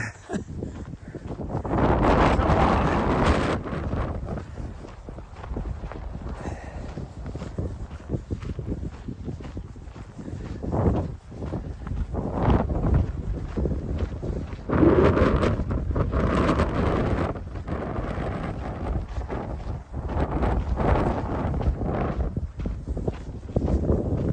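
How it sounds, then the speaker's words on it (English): Strong wind buffeting the microphone on a Montana running trail, a loud rumbling roar that surges and eases in gusts throughout, with faint footsteps underneath. "We sat here for, what, like 3 minutes, and then the wind hits."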